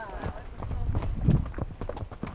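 Horse hooves clip-clop in a quick, uneven rhythm during a trail ride near Galisteo, close and clear, with voices murmuring faintly alongside.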